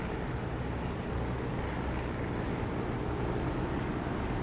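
The aircraft engine of a flight simulator game drones steady and loud, a dense unbroken roar with heavy low rumble that holds constant throughout, with no talking.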